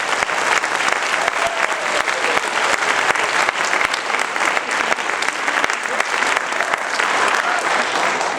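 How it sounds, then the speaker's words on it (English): An audience gives a big round of applause for host families before an OSU Symphony Orchestra performance: dense, continuous clapping from a large crowd filling all eight seconds. "How about a huge round of applause for all of our host families?"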